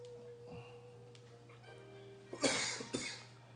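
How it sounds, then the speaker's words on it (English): A man coughs twice in quick, harsh bursts near the end, loud and close, after a quiet stretch with a steady low hum and faint background sounds. "He's sitting there coughing and carrying on."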